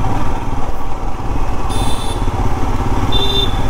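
A motorcycle ridden in the rain on an Indian road gives a loud, steady close-up engine drone with a throbbing rhythm, and brief high beeps from other traffic cut through.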